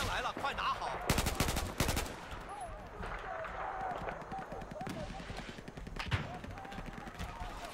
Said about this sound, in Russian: Кто там уже по кому стреляет?